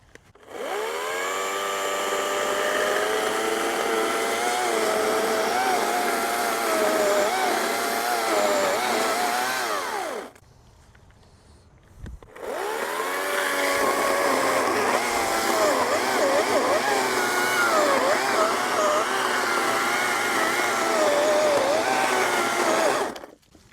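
A chainsaw cuts a felling notch into a tree leaning toward its fall, loud and close with a wavering whine as the chain bites. It cuts out briefly to a low idle, then revs hard back into the wood.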